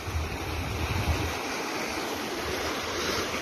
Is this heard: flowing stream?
yes